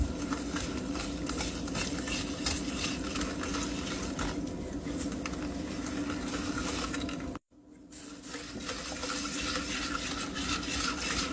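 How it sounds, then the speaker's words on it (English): Peach cobbler batter being stirred and mixed in a bowl, a steady close scraping and swishing with one brief pause, heard alone. "Just keep mixing that until it's good and smooth."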